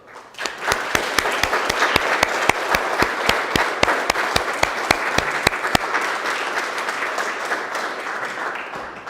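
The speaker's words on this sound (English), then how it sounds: "A big round of applause for her." A Veterans Day celebration audience gives a steady round of applause for a helper, dense clapping with sharp individual claps standing out, loud and sustained before slowly thinning toward the end.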